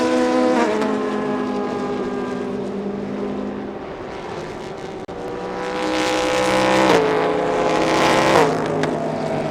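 GT3 race cars roaring in close formation during a Thailand Super GT3 GTM class race, a Ferrari leading; loud sustained engine whine with shifting pitch, swelling as the pack passes near.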